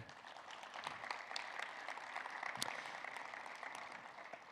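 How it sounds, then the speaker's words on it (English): Audience applause for award winners at an open source technology conference keynote, a steady, fairly faint and distant patter of many hands clapping with a few sharper claps standing out. "So give them a round of applause"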